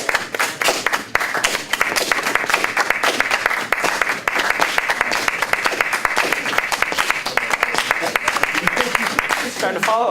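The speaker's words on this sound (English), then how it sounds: "Clap. Let me hear you clap. Go. Clap with me." Group of workshop participants clapping along in a flamenco workshop, steady dense handclaps filling the whole stretch at close range, with voices talking over the rhythm.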